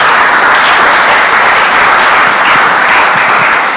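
A church congregation applauds loudly and steadily, a dense wash of clapping from the whole crowd that fills the hall without a break.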